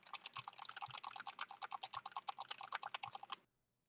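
Rapid keyboard typing heard through an Xbox Wireless Headset microphone, a dense run of fast close clicking keystrokes lasting about three and a half seconds before stopping abruptly, with no talking.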